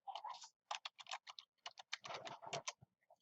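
A password is typed on a computer keyboard: a quick run of crisp, close key clicks in uneven clusters with short pauses, and no voice.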